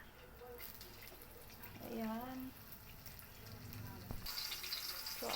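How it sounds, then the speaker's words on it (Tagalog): Dried fish (tuyo) fries in a hot pan with a soft, steady sizzle that continues throughout at low volume, with no talking. "ilagay na natin si tuyo dahil mainit na ang kawali"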